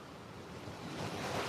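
Ocean waves wash onto a beach in a steady broadband roar that swells louder toward the end, with some wind noise blowing across the microphone.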